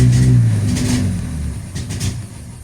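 A Volkswagen Sharan 2.0 petrol engine starts and revs, a steady low rumble that swells and dips over a few seconds, close by.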